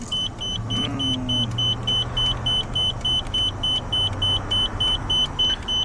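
Nissan Skyline R32 GTST idling with a steady low engine hum, overlaid by a loud, regularly repeating electronic beep chime throughout.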